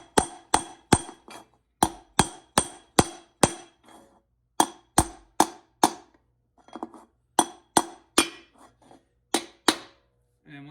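A transmission piston for a GM 4L60E rebuild is tapped into its bore with the output shaft, giving a series of sharp, ringing metallic knocks at a steady rhythm with a few brief pauses. The knocks are close and there is no speech.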